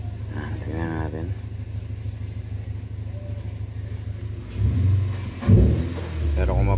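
A Nissan Almera engine idles steadily with a low, even rumble and no misfire, close by, under someone talking; a clunk and a brief rise in engine noise come near the end.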